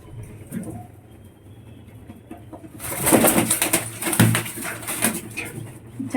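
Lotan pigeons coo in soft repeated throaty calls, close by, rising into a busier, louder stretch midway with scattered clatter, no talking.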